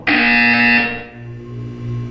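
A loud electronic buzzer from the Portal 2 test chamber sounds once, sustained for under a second with a harsh tonal drone, then fades into a lower hum.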